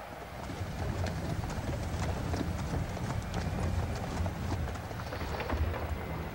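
Rapid hoofbeats of two galloping horses in the video game Shadow of Rome patter continuously over a dense background, steady and fairly close, with no talking.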